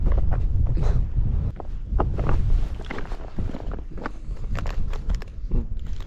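Outdoor wind buffets the microphone in uneven low rumbling gusts, close and constant, with scattered knocks and rustling mixed in.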